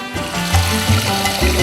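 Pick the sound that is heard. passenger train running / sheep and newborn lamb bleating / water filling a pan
water filling a pan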